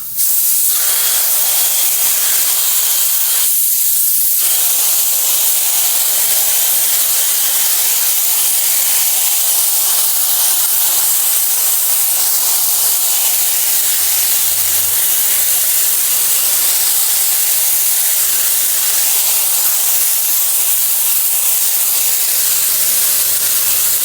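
A spray gun blasts paint onto a speaker box in a loud, continuous hiss that holds steady and close for the whole stretch, with no talking.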